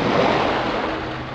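Waves wash at a beach in a brief, loud, broad rush of surf mixed with wind noise on the microphone, steady throughout.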